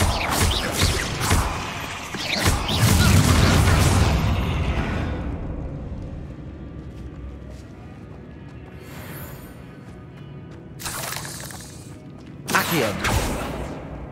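A Confringo explosive spell from Hogwarts Legacy bursts loudly with a broad rumbling boom that slowly fades, followed by a couple of sharper, fainter magical blasts later on.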